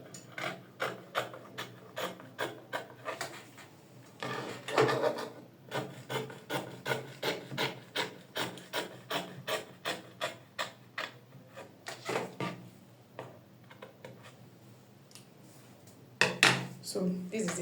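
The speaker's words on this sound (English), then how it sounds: "So from there, we just cut it out." Scissors cut out fabric for a bubu gown in a steady series of crisp snips and rasping slides, close and fairly quiet, with a short pause partway through.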